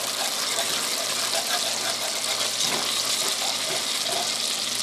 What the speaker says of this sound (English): Now we're just going to pour this right in there, just like that,